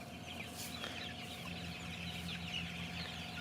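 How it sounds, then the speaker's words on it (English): Chickens on a farm cluck softly at a distance over a steady background hum, with scattered short calls and no voices. "Look at all the chickens"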